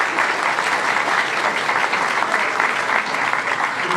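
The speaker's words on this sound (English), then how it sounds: "So, please, a big round of applause for that." An audience at a municipal all-candidate forum on seniors' issues claps steadily, a dense, even round of applause from a crowd heard from within the room throughout.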